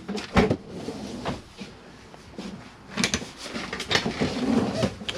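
A few short bumps and slides of large storage drawers in a 2016 Chausson Flash 510 motorhome being pulled open and pushed shut, close by with brief pauses between.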